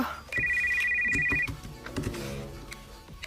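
A telephone ringtone trills steadily for about a second, clear and close, followed by soft handling noises and room clatter.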